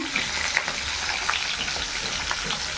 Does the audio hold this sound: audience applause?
no